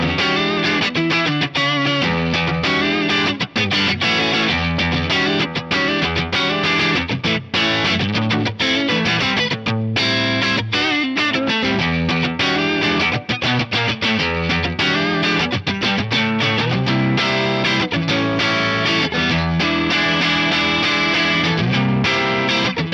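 Electric guitar played through an Axe Fx III Morgan AC20 amp model with London plate reverb and no compression, a continuous loud distorted stream of chords and riffs filling the whole stretch, alone without any voice.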